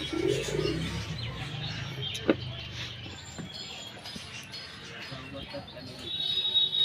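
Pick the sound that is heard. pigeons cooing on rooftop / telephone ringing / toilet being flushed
pigeons cooing on rooftop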